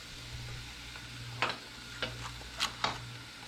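Hamburger sautés in olive oil in a pan on high heat, a soft, quiet sizzle with a few sharper crackles and spatula scrapes near the end.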